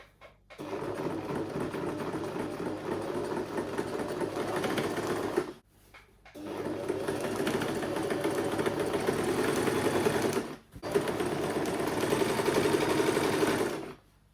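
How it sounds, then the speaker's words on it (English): A sewing machine stitches the shoulder seam of a butterfly bubu dress in three sustained bursts of fast, even motor hum separated by short pauses, close and clear. "Now I'm sewing the second shoulder."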